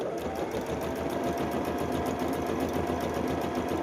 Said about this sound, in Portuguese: costurar bem em cima da marcação que eu fiz com o giz